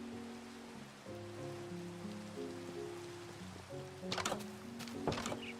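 Steady rain patters in the cozy magic-building video game Harmonious Magineering, a soft even wash under sustained musical tones, with a couple of louder splashy bursts near the end.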